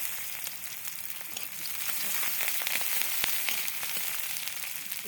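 Chopped onion sizzles in a hot pan with oil, a dense, steady hiss and crackle up close that swells slightly midway.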